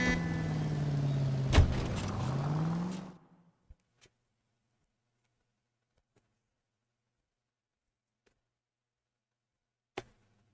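A car drives in the crime game LA Noire: a steady engine drone with a rising and falling whine over about three seconds, then it cuts off into near silence broken by a few faint clicks and one sharp knock.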